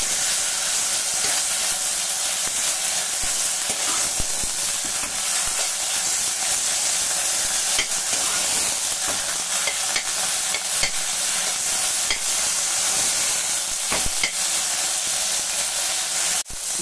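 Ganike greens frying and being stirred in a pan, with a constant close sizzle and hiss broken by sharp scraping clicks of a spoon against the pan.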